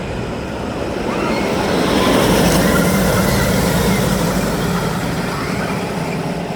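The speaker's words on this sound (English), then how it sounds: "So another ride on Thunder Coaster." A train on the Thunder Coaster, a wooden roller coaster in Europe, runs along its track with a continuous loud rumbling roar and rattle, swelling slightly midway, with no clear talk.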